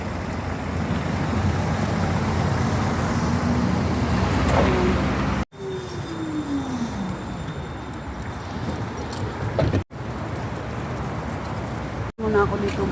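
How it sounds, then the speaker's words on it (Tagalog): Busy road traffic rumbles steadily in the open, with vehicles passing close by and a broad, continuous engine and tyre roar, cut by a few brief dropouts. "Sobrang busy ngayon, traffic."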